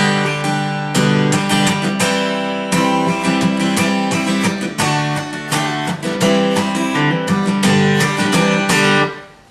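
Full major chords are strummed on guitar in a busy, continuous rhythm, loud and close, with dense ringing harmonics and no voices.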